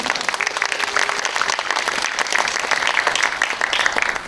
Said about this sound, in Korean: 박수로 한번 다시 부탁드릴게요.